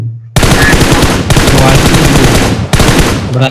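Rapid automatic gunfire in a video game, loud and close, in two long bursts separated by a brief break, with no talking over it.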